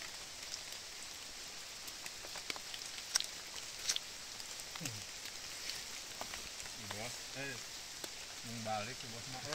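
Steady rain falls on a mountain trail in the wet season, a continuous hiss with scattered drop ticks, while voices talk intermittently over it.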